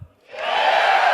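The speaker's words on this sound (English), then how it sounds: "You're gonna applause after every sentence." A live crowd at a Destiny 2 gameplay reveal event bursts into cheering after a short pause. The sound quickly swells into a loud, sustained roar.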